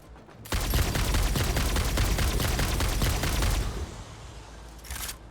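Rapid sustained gunfire in the factory-building video game Satisfactory, a dense burst of loud repeated shots lasting about three seconds, then a brief quieter tail with a final short burst.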